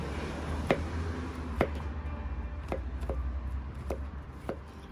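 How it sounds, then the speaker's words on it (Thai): Knife slicing through firm, plump-stemmed Danish honey mushrooms on a board: about seven distinct, crisp cuts at an uneven pace, fairly close, over a steady low background hum. "อย่างนี้จะมาสไลด์"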